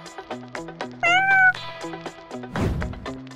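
A cat meows several times in short harmonic calls, including one longer rising meow, with a brief noisy rustle near the end; close and fairly clear, no talking.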